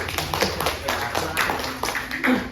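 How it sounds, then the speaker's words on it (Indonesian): Students in a vocational high school classroom clap their hands during a microteaching lesson, a scattered, uneven patter of nearby claps lasting a couple of seconds with faint room noise underneath. "Mungkin tepuk tangan untuk kita semua dulu ya."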